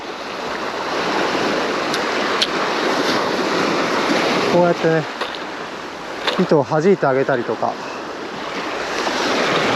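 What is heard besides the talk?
ocean waves breaking on a sandy beach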